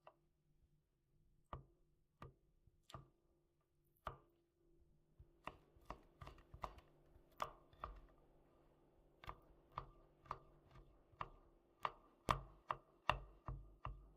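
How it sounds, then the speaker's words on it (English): A knife chops through fat on a board while Chechen baarsh is being prepared, sharp distinct knocks starting sparse and growing into a steady, faster run of close cuts with no talk. "Now we'll cut the fat."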